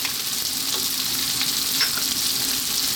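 Onion, carrot, celery and cauliflower fry over high heat in a pan, making a loud, dense, unbroken sizzle while a spatula keeps them moving close by.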